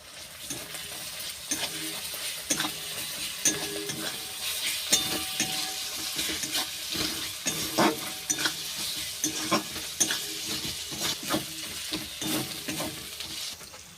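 Ginger-garlic paste fries in a pan for Bihari-style chicken masala, a steady close sizzle broken by repeated scraping stirs of a spatula, with no voices.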